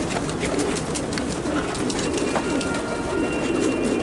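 Pigeons cooing close by in a loft or rooftop setting, soft repeated throaty coos over a steady rustling background din, with no talk.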